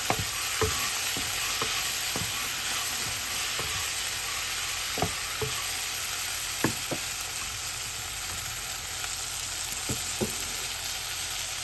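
Tomatoes frying with shallots in a clay pot for a green-mango fish curry: a steady, close oil sizzle runs throughout, broken by sharp clicks from a stirring spoon every second or so, with no voices.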